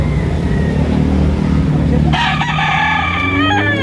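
Roosters crow loudly at a fowl market in Lipa, Batangas, one long call standing out over a busy background with a vehicle engine and chatter.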